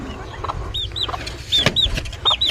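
Growing chicks peep and cluck in short, bright calls, a few repeated chirps spread across the moment, close by with faint farmyard noise behind.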